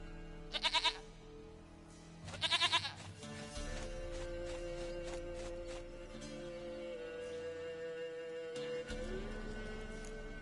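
A goat bleats twice in the video game Witcher 3, two wavering, pulsing cries close up over a steady game soundscape with music, followed by softer background tones.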